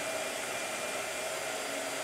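A handheld blow dryer runs steadily at close range, a constant loud airy whir with no pauses and no voices over it.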